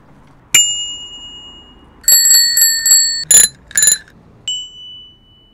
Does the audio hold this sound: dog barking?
no